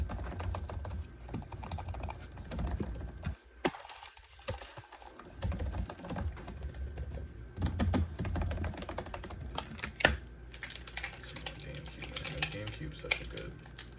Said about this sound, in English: The GameCube controller, I should say, is such a good ASMR maker. It's like so springy and clicky.